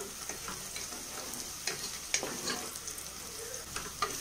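Onions sautéing in oil for chicken biryani, a gentle continuous sizzle broken by light stirring scrapes and small ticks of a spoon, close and quiet with no talk.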